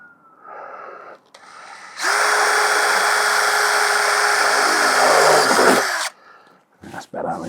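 A power drill bores holes for headlight relays on an MGB, running steadily and loud for about four seconds after a couple of short starts, then stopping; brief bumps and handling noises come before and after.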